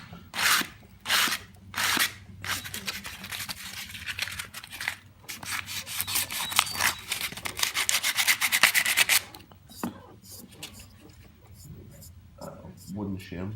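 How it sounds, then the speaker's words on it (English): Sanding aluminum by hand with 150 grit sandpaper produces rhythmic, scratchy strokes, close and moderately loud, in bursts with brief pauses, with quiet talk between. "We're just going to take our 150 grit again."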